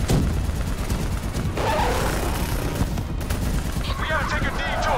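Dense, loud bursts of automatic gunfire and explosions fill a battle in the Call of Duty Black Ops 3 single-player campaign, rapid continuous shots layered with crashes and booms, with voices shouting over the barrage.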